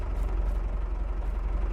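A tractor engine in Farming Simulator 22 rumbles low and steady near a building, a constant droning idle with a slight echo and no voices.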